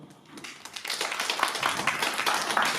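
Applause swells from a crowd at an All India Event Artist Association Trust gathering, starting thin and quickly building into dense, steady clapping that holds strong through to the end.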